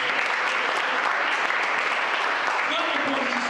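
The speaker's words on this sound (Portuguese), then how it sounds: "Aplaude o Senhor." A church congregation applauds in a continuous, even roar of clapping that holds steady throughout, with voices mixed faintly underneath.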